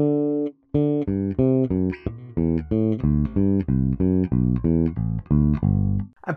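A bass guitar plays a steady run of two-note fifth intervals, each note plucked and ringing briefly, moving up and down in an even rhythm.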